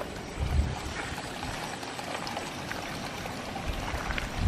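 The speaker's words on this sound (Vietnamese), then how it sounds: "Mà nước lại chảy ngầm ở trong cái khe đá này ra." Water streaming out of a rock crevice, a steady, continuous rushing and splashing flow that stays close and fairly loud throughout, with no voices.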